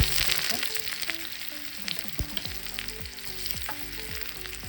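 Crushed shallots fry in hot oil with dried red chillies and popped mustard seeds. A close, steady sizzle carries scattered crackles and a few stirring scrapes, with no voice.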